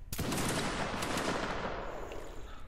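Reenactment line infantry of the 33rd Regiment of Foot fire a musket volley: one loud, close, dense crackling blast of massed shots that decays over roughly two seconds with no talk over it.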